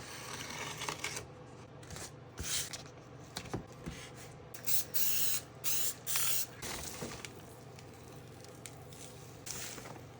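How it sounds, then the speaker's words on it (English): Bursts of spray glue hiss from an aerosol can over a live edge epoxy resin woodworking piece, several short blasts separated by pauses, close and fairly quiet. "I'm using the tape because I'm going to use a spray glue."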